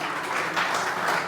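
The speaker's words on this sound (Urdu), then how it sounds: "بھرپور تالیاں علی بدر صاحب کے لیے" A crowd applauds Ali Badr at a Pakistan Peoples Party rally marking Benazir Bhutto's birthday, with a dense, steady wash of clapping heard up close throughout.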